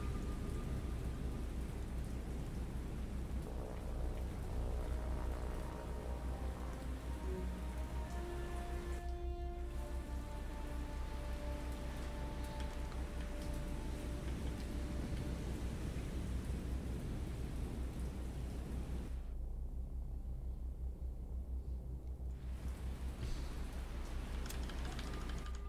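Steady rain and rumbling thunder at sea in the naval game War on the Sea, with rough Sea State 6 conditions; a continuous dense wash of noise with deeper rolls rising through it, no talk.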